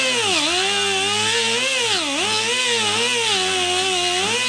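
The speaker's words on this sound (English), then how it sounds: "I'm gonna have to drill these holes out." A power drill whines steadily while drilling out holes in a urethane steering coupler during a BMW E30 Z3 steering rack swap. The motor pitch sags and recovers a few times under load, with no talk.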